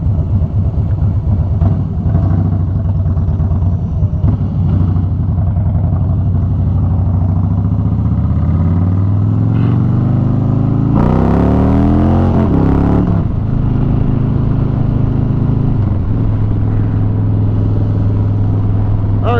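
A motorcycle idles at a stoplight in traffic, a steady low engine rumble throughout, with a brief rising rev and gear-change sweep midway before settling back to idle.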